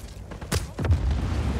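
Two heavy explosions go off in Just Cause 4, a sharp booming blast followed moments later by a second burst with a rumbling tail, loud and close with no talk over them.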